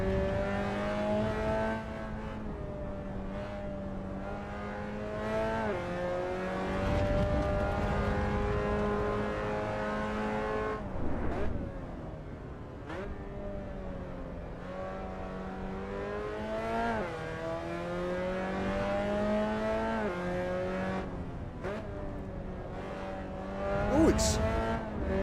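Race car engine in the Assetto Corsa Evo video game with a sequential gearbox, revving and shifting through repeated climbs in pitch, some tyre noise, with someone talking briefly over it.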